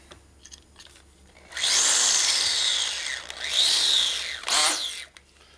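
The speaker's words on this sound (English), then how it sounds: "Gotta center drill it." Power drill center-drilling a part on a 1967 Harley-Davidson 74ci Shovelhead FLH motorcycle build, a loud whining, grinding bore that runs in two sustained bursts with a short pause, then a brief spin-down.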